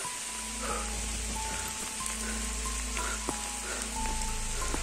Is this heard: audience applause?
no